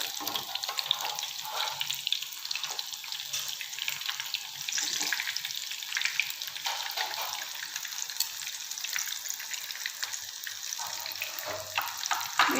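Chicken chapli kebabs shallow-frying in a pan, a steady close hiss of spitting oil that carries on evenly without pause.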